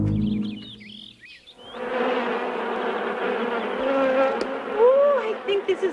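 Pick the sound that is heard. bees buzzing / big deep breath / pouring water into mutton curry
bees buzzing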